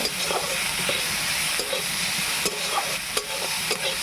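Small shrimp fry in a pan in a continuous bright sizzle and hiss, broken by occasional scraping clicks from stirring. The sound is close and steady throughout, with no talking.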